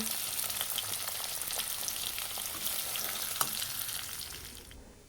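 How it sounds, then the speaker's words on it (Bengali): Paneer pieces fry in hot oil in a pan with a steady, fairly loud sizzle and occasional stirring clinks, fading near the end as they come off the heat. "দেখো পনিরগুলো ভাজা হয়ে গেলে এখন নামিয়ে নেব"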